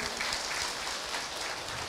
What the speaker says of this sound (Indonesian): Sekali lagi tepuk tangan buat Ibu Ada ya.